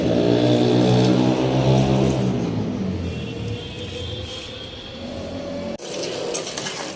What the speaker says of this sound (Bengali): কি জোরে বাইক চালাচ্ছে